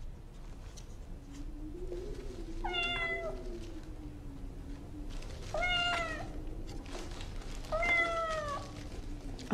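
An old female cat meows three times, each a short rising-and-falling cry spaced a couple of seconds apart, fairly close over a faint low background hum, with no one talking.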